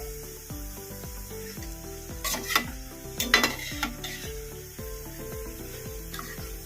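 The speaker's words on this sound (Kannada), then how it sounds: "ಮೀಡಿಯಮ್ ಫ್ಲೇಮಲ್ಲಿ ಇಟ್ಕೊಂಡು ಫ್ರೈ ಮಾಡ್ಕೋಬೇಕು" Tomato pakoras frying in hot oil over a medium flame, a steady close sizzle broken by a few sharper scraping and stirring clatters near the middle, with no voices.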